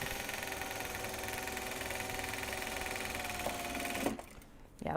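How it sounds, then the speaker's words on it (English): A sewing machine sews pockets on project bags made from Japanese fabric, a steady rapid whirring hum that stops abruptly near the end, followed by faint handling noises. "let's go in and sew all the paw pockets"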